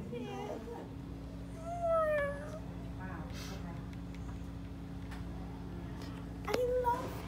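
A barn cat meows a few times, close and fairly quiet, with short rising calls spaced apart over a low steady hum while people talk softly nearby.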